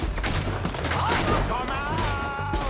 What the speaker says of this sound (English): Let them have it, boys! Shoot those bastards!